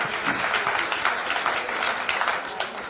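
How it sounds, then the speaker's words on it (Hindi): Energetic applause from a group at an agriculture product training session, steady rapid clapping for about three seconds with no speech over it. "अब हमने एक बार जोरदार ताली"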